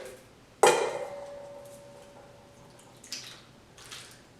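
Two large cans of diced tomatoes dumped into a crock pot already holding peppers: one sharp, loud splashing clatter, then a fading ring and two softer wet sloshes a few seconds later, with no talking.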